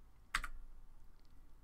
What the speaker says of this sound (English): So I can just go ahead and hit the delete key on my keyboard